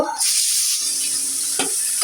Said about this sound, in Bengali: এই মাছ ভাজা তেলের মধ্যে দিয়ে দিব